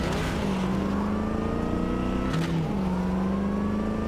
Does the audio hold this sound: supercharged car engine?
yes